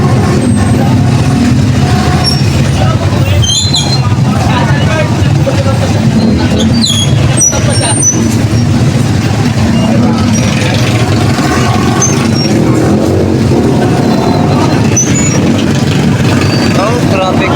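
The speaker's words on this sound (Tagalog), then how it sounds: "Ang traffic dito ngayon" Dense road traffic rumbles at four in the morning in Rosario, Cavite, with idling engines, horns and a busy crowd close by and voices talking throughout.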